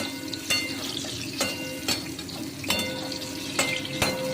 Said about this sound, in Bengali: পটলগুলো একটু লাল লাল করে ভেজে নেবো